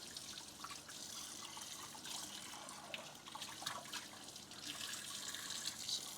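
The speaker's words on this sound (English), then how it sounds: "Fill this with water." Water running steadily from a kitchen tap while dishes are rinsed in a sink, a continuous trickling and splashing stream with no voices.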